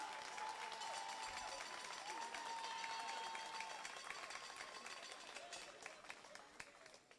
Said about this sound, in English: So I think they deserve a round of applause tonight.